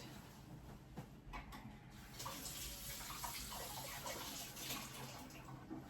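An empty can is washed under a running kitchen tap: a steady stream of water splashes and rushes over the metal for several seconds, close and fairly loud, with no talking.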